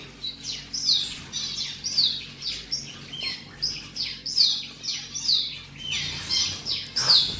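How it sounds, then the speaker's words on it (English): Many small birds at a bird cafe in Tokyo chirp and squawk continuously, sharp high tweets overlapping in quick irregular bursts, close and lively with no talking. "Oh, they're fast. They are fast birds. They all want food."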